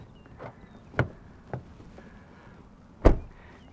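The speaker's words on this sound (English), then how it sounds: "It is a keyless entry system, so you can just push a button on the door to unlock" Door lock mechanism on a 2021 Kia Sorento X-Line with keyless entry, heard as a few short, dull clunks and clicks spaced over several seconds, the last one loudest, with no talking.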